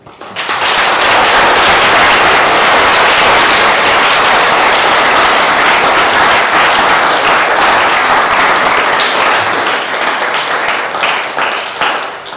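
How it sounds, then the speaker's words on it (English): Audience applause after a talk about nomadic life in western Mongolia: loud, dense clapping that swells quickly and holds steady for over ten seconds before easing slightly toward the end. "Thank you for the applause"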